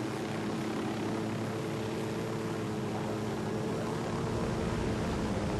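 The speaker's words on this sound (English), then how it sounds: "Let's put the helicopter down." A helicopter in the tactical shooter Ghost Recon: Wildlands hovers close and loud as it sets down, its steady engine and rotor drone filling the scene without a break and no talk over it.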